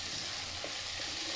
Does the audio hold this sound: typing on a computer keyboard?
no